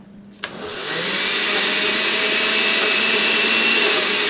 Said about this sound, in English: And I have my blender set to liquefy.